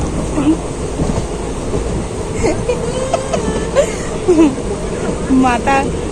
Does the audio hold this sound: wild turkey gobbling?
no